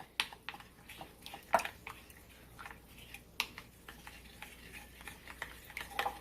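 Cornstarch being stirred into lemon garlic chicken in a slow cooker: soft, scattered scraping clicks and light squishes of a spoon, with a few sharper taps against the pot, fairly quiet throughout.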